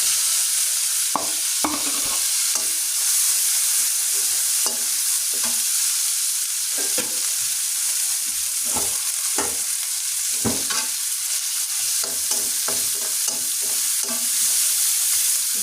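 Prawns frying with spice paste in a pan, a constant loud hissing sizzle with intermittent scraping and knocking of a stirring spoon, close and without speech.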